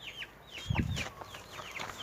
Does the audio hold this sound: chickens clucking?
yes